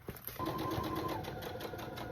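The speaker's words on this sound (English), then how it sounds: "Flip it and top stitch it so it looks pretty and it holds the zipper down." Sewing machine top stitching along the zipper of a small zipper bag, a steady fast mechanical whir that starts after a brief pause and runs continuously at close range.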